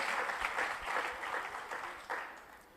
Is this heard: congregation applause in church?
yes